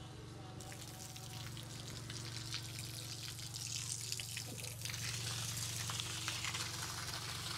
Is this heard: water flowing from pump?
yes